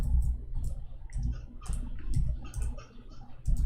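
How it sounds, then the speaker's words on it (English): Keys click on a computer keyboard, close up, in irregular bursts of sharp keystrokes with short pauses between them and no talking. "My keyboard is not working again."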